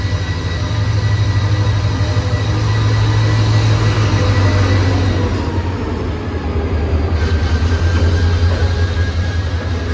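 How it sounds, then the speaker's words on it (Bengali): A long, packed passenger train pulls into Dohazari station with a loud, continuous rumble and steady low drone, wheels clattering at close range throughout, briefly dipping mid-pass before surging again. "ট্রেন চলে আসলো।"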